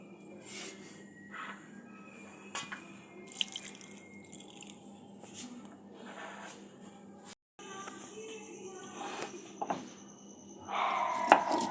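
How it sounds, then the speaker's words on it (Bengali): Water trickles and drips for soaking tamarind in a Bengali kitchen, small splashes and faint pours scattered throughout, louder near the end, quiet and close with no talk. "এই তেঁতুলটা আমি একটু জলে ভিজিয়ে দেব।"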